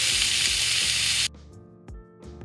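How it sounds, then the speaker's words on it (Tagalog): Ribeye steak sizzles loudly in a hot grill pan for over a second, then the frying drops to a quieter crackle broken by a few sharp spatters and small sputters. "if you fry in a grill pan, it's like we're grilling"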